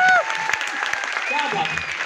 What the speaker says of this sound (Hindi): मैं चाहूंगा एक जबरदस्त तालियां होनी चाहिए आपके लिए।